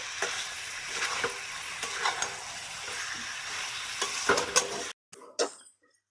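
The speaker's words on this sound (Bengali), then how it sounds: "এবার দিয়ে দেবো স্বাদ মতো লবণ লবণ আর আলুটাকে দিয়ে বন্ধুরা আবারও ভালো করে নেড়ে নেব" Bengali-style mutton with fried potatoes and salt is stirred in a hot pan, a constant sizzle broken by repeated scraping strokes of a spoon, ending with a few louder knocks as the sound cuts off.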